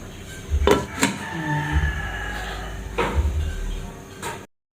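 A pot lid clinks as it is lifted while bananas cook for breakfast. There are a few sharp, close metallic knocks spaced out over a few seconds against a quiet room.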